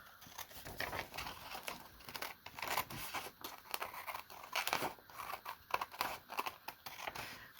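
Scissors snip through a paper envelope, with quick, close crisp cuts and rustling paper crinkles in an irregular rhythm, fairly quiet and with no talking.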